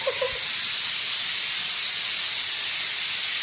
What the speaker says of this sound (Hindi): और इधर विसिल इसमें लगना शुरू हो गई है।